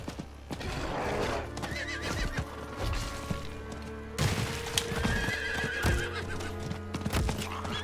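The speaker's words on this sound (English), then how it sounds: "I got a horse." A horse in a video game neighs and whinnies while its hooves clip-clop steadily, close and fairly clear over a quiet game backdrop, with no talking.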